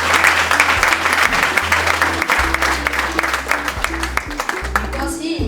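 At a closing ceremony an audience claps steadily and loudly throughout, a dense ongoing applause with a low hum and a voice speaking over it.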